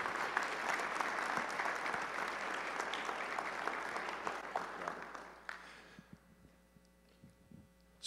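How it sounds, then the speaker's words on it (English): An audience at a fall training event applauds loudly and steadily for about five seconds, the clapping then thinning out and fading to a faint room hum. "Will you please give them a huge round of applause for me?"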